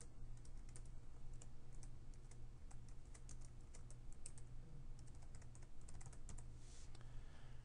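Someone types text steadily on a computer keyboard while entering a multi-line text command in Autodesk Inventor. The keystrokes are quiet, rapid and evenly spaced over a low constant hum, with no speech.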